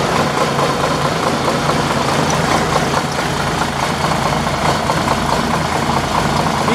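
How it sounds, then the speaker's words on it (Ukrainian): The diesel engine of a gray 2004 MAN Lion's Coach R07 bus idles, a loud, close, continuous rumble that stays even throughout. "Перевірка роботи двигуна в сірому автобусі МАН Ліон Скорость."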